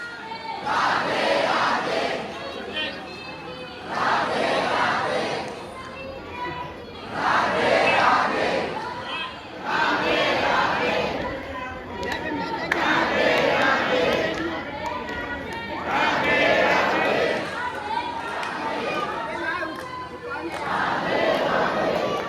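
Crowd of devotees at Shri Radha Vallabh temple in Vrindavan, loud massed voices chanting and calling in repeated surging waves, dense and close throughout.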